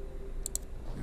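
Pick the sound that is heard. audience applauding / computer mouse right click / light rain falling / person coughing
computer mouse right click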